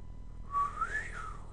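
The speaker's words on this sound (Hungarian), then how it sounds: "Elsőre nem sikerült fütyülnöm." A person whistles a short rising and falling tune, clear and close, lasting about a second.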